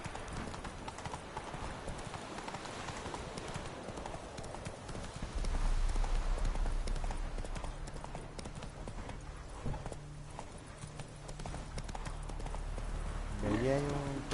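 Horse hooves clip-clopping at a quick gallop in The Witcher 3, a steady rhythmic beat under game music and ambience, with a brief whinny near the end.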